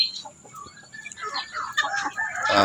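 Native chickens around three months old cluck softly and intermittently nearby, with scattered quiet calls and rustling that grow a little louder toward the end.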